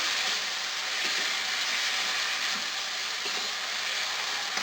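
Water added to fried ground spice masala in a hot pan gives a loud, continuous hissing sizzle that holds steady throughout, with faint stirring and no talk.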